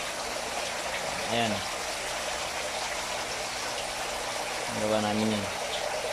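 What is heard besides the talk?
water pump running in a DIY fishpond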